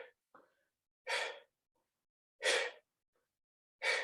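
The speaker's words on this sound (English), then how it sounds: "I hope you can hear my breathing." Heavy exhaling during a workout: three strong, close, breathy bursts spaced at a steady rhythm about a second and a half apart, with quiet gaps between them.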